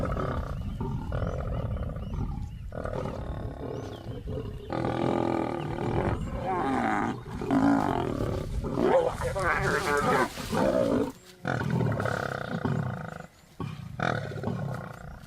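Male lions roar and growl in deep, rumbling bursts as they take back a lioness's kill in the wild, loud and close, with overlapping snarls and short pauses between calls.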